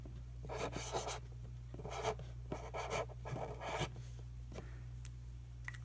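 A metallic craft pen writes on paper in several short scratchy bursts separated by pauses, close and fairly quiet over a steady low hum.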